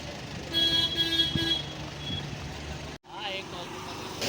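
A busy tourist taxi stand in Pahalgam, Kashmir, with idling and passing vehicles, short horn toots and reversing beeps over a steady street rumble, and people talking in the background; the noise briefly cuts out near the end.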